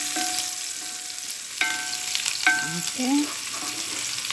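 Garlic and onion sauté in a pan for butter crabs, a steady broadband sizzle with intermittent stirring scrapes and clinks, moderately close, and one brief spoken word.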